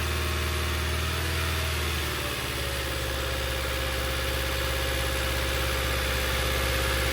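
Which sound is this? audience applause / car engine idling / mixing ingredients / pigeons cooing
car engine idling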